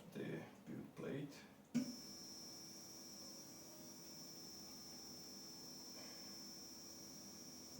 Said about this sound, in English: It has a good sound in the motor.